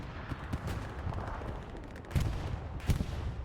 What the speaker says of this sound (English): I don't even know what that explosion was over there